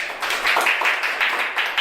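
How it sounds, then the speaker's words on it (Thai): A small seminar audience gives the company a brief round of applause, a short, light patter of several hands clapping close by. "มีเสียงปรบมือให้บริษัทหน่อยได้ไหมครับ"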